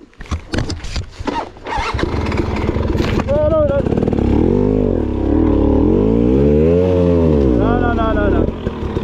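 Motorcycle on an off-road trail in the Hatfield-McCoy area, starting with rough sputters and then revving loud and close in rising and falling sweeps.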